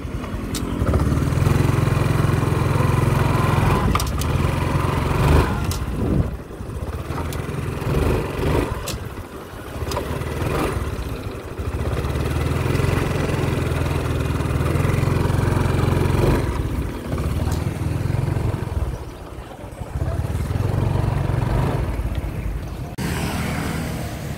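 A Honda Wave 125i motorcycle engine idles close by with a steady low rumble that rises and falls slightly as it is revved gently several times.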